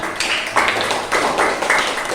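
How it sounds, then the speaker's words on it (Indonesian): Students in a classroom clap their hands together in a dense, continuous patter that swells in bursts and stays fairly loud and close, with a faint voice mixed underneath. "Ya, bagus, tepuk tangan."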